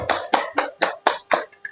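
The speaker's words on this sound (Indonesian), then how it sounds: "apresiasi tepuk tangan." A class claps together in a short burst, about seven sharp, evenly spaced claps close by, with no voices over them.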